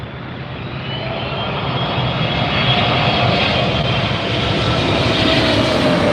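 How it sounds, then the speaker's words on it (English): A Cathay Pacific Boeing 777-300ER jet passes close overhead at LAX airport, a loud broad engine roar that builds steadily and holds for several seconds with no talking. "Cathay Pacific 777"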